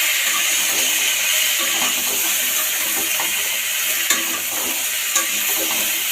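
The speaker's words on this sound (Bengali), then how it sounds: "তরকারিটা হচ্ছে হোক, সবজিগুলোকে ভালোভাবে ছাঁচিয়ে নিচ্ছি।" A vegetable curry sizzles and frys in a pan while being stirred, a steady bright hiss with occasional soft scrapes and clicks of the spoon.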